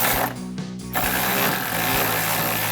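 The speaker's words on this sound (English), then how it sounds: "I'll grab a 16 millimeter socket and 17 millimeter wrench for that connecting bolt" A socket ratchet clicks while a 16 mm socket and 17 mm wrench tighten a connecting bolt on Jeep Gladiator JT drop-step brackets, giving steady close mechanical ticking with a few sharper knocks.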